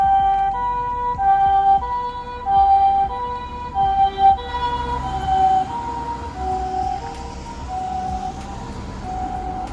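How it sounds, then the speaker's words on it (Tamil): An ambulance siren in Japan moves through traffic at a signal. Its tonal wail repeats in a clear, regular pattern, loud at first and then easing back under general street noise. "இப்போ ஆம்புலன்ஸ் வருது அப்படின்னா சிக்னலில் இருக்க எல்லோரும் நிறுத்திடுவாங்க, ஆம்புலன்ஸுக்கு மட்டும் வழி விடுவாங்க"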